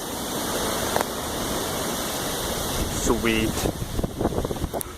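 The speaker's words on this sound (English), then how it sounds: "It's windy." Steady wind roars and buffets the microphone outdoors as a storm builds, with a constant rushing noise and a brief spoken word near the end.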